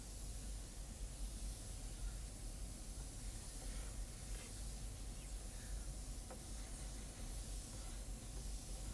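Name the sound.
airbrush spraying paint on a skull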